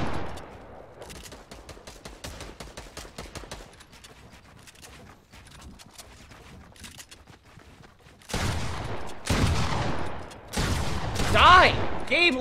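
Gunfire in a Fortnite match: rapid clusters of shots and bursts, light at first and then louder, denser volleys toward the end, with a voice talking over the action.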